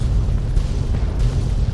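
Explosions in the PC video game Fallout 3, a continuous loud low rumble of blasts and booms with no talking over it.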